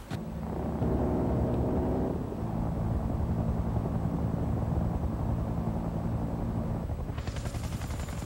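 Helicopter in Bad Company 2 multiplayer combat, a steady loud rotor and engine drone with machine-gun bursts and battlefield noise layered over it, no talk.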